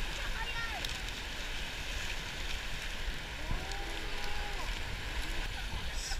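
A river boat rides the rapids of the Kinugawa River in Japan, with a constant rushing roar of churning water and wind, while faint voices and cries come through over the noise.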